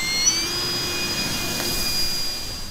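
An electric motor on an RC F4U Corsair model airplane with a three-blade propeller runs at full throttle, giving a steady, high, sustained whine with no talk.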